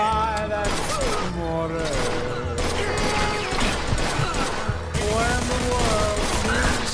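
Gunfire in the video game Mafia 2 crackles through a dense, steady mix of game music and voices, with shots blending into the busy soundtrack rather than standing out as isolated bangs.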